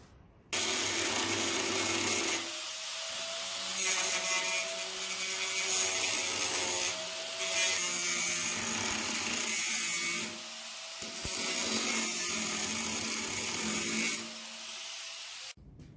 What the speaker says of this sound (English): I'm drilling out the spot welds right now so it could release this panel.